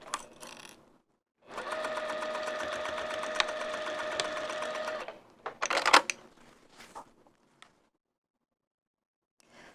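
A sewing machine stitches a vinyl zipper wristlet in one steady burst of about three seconds, followed by a few short clattering handling noises and then quiet.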